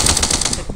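Rapid automatic gunfire from a weapon in the zombie shooter game Zombie Combat Simulator, a short loud burst of quick repeated shots, close up.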